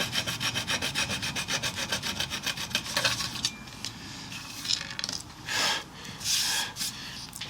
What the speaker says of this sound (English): I will do another sand. You do lots of that, you know,